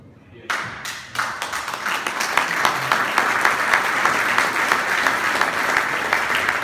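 An audience applauds at a French political support rally: clapping breaks out after a brief pause, then swells into loud, dense, steady applause that fills the room.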